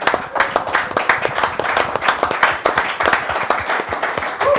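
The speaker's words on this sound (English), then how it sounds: "can I get a warm round of applause for Richard?" Audience at a show gives Richard a warm round of applause, loud close clapping with distinct individual claps in a steady, energetic patter that runs throughout.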